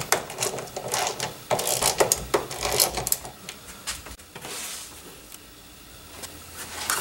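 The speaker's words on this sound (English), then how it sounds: "Tighten these two bolts here." A ratchet tightens two bolts on the main fuse panel of a 2010 GMC Acadia, Chevy Traverse or Buick Enclave, producing rapid clicking bursts close by that fade into quieter handling noise.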